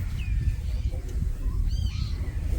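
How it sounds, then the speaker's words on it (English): Seagulls give a few faint, short calls outdoors at Lake Neusiedl in the early morning, scattered over a steady low wind-like rumble. "Maybe you can hear the birds in the background. The seagulls are already here,"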